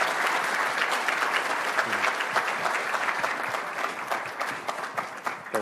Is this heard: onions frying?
no